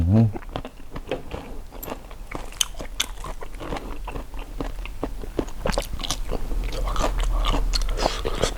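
Crispy shrimp served with fish sauce is bitten and chewed right at the mouth, giving steady loud crunching and crackling for several seconds with no talking.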